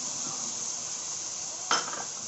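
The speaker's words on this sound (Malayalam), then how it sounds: "നമ്മൾ നമ്മുടെ പച്ചക്കറികളൊക്കെ അത്യാവശ്യം കുഴപ്പമില്ലാത്ത രീതിയിൽ നമ്മൾ എണ്ണയിൽ വഴറ്റിയിട്ടുണ്ട്." Chopped vegetables including tomato and cabbage sautéing in oil in a pan for a veg burger, a steady close sizzle throughout with one brief metallic clink of a utensil near the end.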